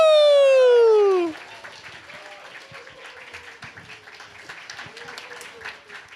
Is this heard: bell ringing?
no